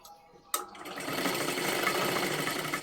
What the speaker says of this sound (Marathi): आता ह्याच्यावरती डबल अजून एक शिलाई आपल्याला द्यायची आहे